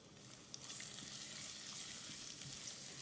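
Onions sizzle and fry in melted fat in a pan for a shrimp in creamy coconut sauce, Kerala style: a steady, close, bright crackling hiss that holds evenly throughout with no voices.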